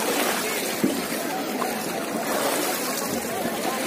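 Splashing and churning water as people take a dip in the cold Ganga at the Kumbh Mela in Prayagraj, a continuous wash of water noise with voices mixed in.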